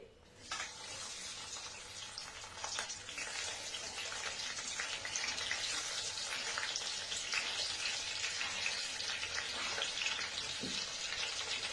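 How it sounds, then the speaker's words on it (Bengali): Fish fries in an iron wok with a dense, crackling sizzle that starts abruptly and holds steady and close, with scattered pops and spits rising out of the hiss. "মাছ ভাজাটা আমি বসিয়ে দিয়েছি"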